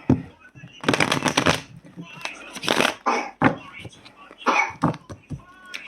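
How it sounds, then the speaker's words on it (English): Children with bad coughs from illness cough in the background, several sharp, bursty coughs spread through the stretch, mixed with an adult's nearby talking and other household noise. "I've got a couple of sick kids at the moment with really wicked coughs."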